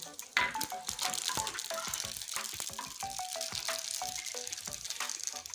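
Black mustard seeds crackle and sizzle in hot oil for tempering a mango chutney, a dense run of sharp pops over a steady fry, close and alone.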